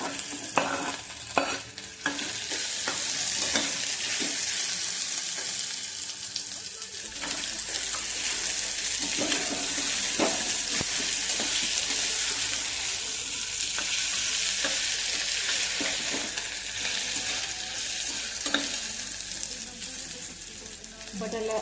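Crushed garlic and curry leaves with potatoes stir-fried in hot oil in a pan, a loud continuous sizzle running throughout with scattered utensil scrapes and knocks.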